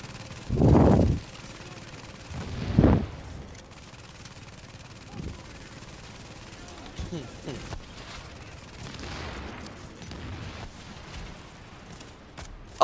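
Gunfire in The Division: two loud, short bursts of shots near the start, then quieter scattered shots and game noise while players talk over it.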